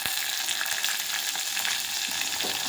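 Sliced onions and a tomato sizzling and frying in a pan, a steady dense crackle that runs without a break, close and fairly loud, with no voices.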